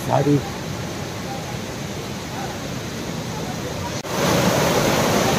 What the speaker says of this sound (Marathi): हे बघा तिकडं पुढं नदी आहे, गंड नदीचा